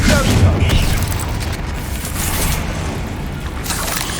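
A Confringo blasting spell goes off in Hogwarts Legacy, a deep booming burst followed by a sustained rumbling roar of game effects.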